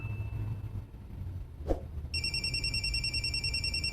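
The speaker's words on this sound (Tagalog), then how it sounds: "Nanawag si Romero" In a drama episode, a telephone starts ringing with an incoming call, a bright electronic warbling ring repeating steadily after a quiet room tone and a single soft thump.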